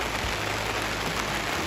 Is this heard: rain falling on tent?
yes